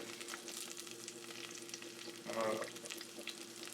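Bay leaves and garlic sizzle in hot oil in a frying pan for a traditional Odia mutton curry, a steady crackling hiss with stirring. A brief louder burst near the middle, then the sizzle continues at a low level.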